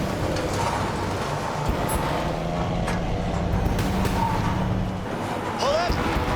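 A heavy tow truck's drivetrain strains as it pulls a rolled-over tractor up toward a highway, a continuous low engine drone with clanks and creaks while people talk over it.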